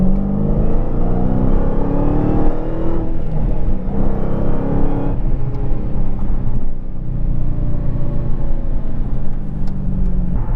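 A 707-horsepower Dodge Challenger Hellcat drives along the highway, a loud steady engine drone and road rumble heard from inside, swelling under acceleration and easing off, with no talking.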